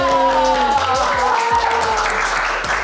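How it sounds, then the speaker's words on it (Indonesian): Podcast hosts applaud in a brief burst of close handclaps mixed with loud, cheerful voices and tones. "Tepuk tangan dulu dong."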